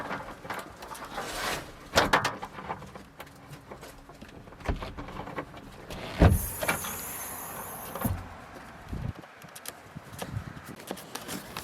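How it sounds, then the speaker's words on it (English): Key turning a car door lock on a Porsche 944, whose linkage rods move as it opens: a series of close mechanical clicks, clunks and rattles, with a brief whirring motor-like buzz in the middle and quieter handling noise between. "I'm going to go turn the key, and you're going to see the lock turn"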